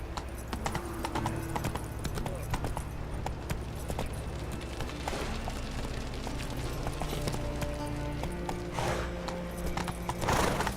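A horse in The Witcher 3 game clip-clops at a steady trot, with rhythmic hoofbeats continuing throughout and a brief jangle of tack near the end.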